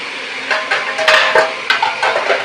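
Chopped tomato is tipped into a cooking pan with a few close clatters and scrapes of utensil against metal, followed by light stirring knocks.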